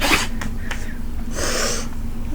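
One quick, close sneeze bursts out at the start, followed by a sharp breathy snort and a few soft breaths against a low background hum.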